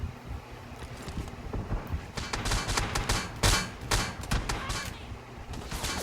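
Gunfire in a video game shooter comes as a cluster of sharp, rapid shots and bursts of varying loudness over a rushing background.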